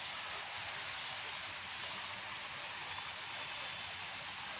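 Heavy monsoon rain pours steadily in a village setting, a soft, even hiss of drops on surfaces with faint scattered patters, no clear talk over it.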